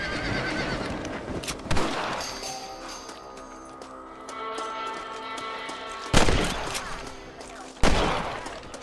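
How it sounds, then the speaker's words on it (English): Gunshots fired at rabbits in the Red Dead Redemption video game. A few sharp, isolated reports ring out several seconds apart over a horse whinnying and snorting, with a steady tonal game soundtrack underneath. "You're better at shooting rabbits than outlaws, I see."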